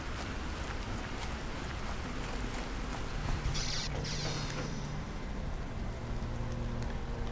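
Rain falls in the video game Planet Crafter as a steady, even hiss that continues without pause, fairly soft, with no talking over it.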